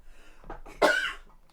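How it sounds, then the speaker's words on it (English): A woman coughs once, close and sharp, after a soft intake of breath. "Sorry, I have to cough."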